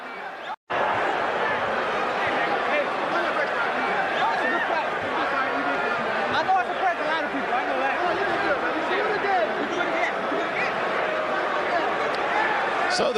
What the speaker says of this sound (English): So the crowd begins to try to get its bearings